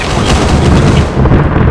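Dense, loud gunfire in ArmA 3, with overlapping shots and booms crowding the whole stretch without a break and no talk over it.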